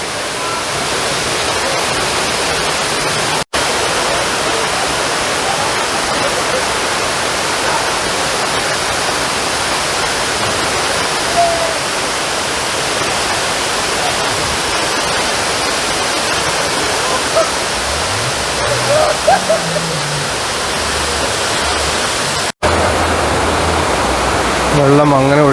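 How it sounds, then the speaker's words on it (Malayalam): A small waterfall spills from a hollow in a steady, loud broadband roar that runs unbroken throughout, with a brief voice near the end. "ഒരു ചെറിയ വെള്ളച്ചാട്ടം, അപ്പുറം മാറി എല്ലാ ഓളങ്ങളിൽ നിന്നൊക്കെ മാറിയൊരു വെള്ളച്ചാട്ടം."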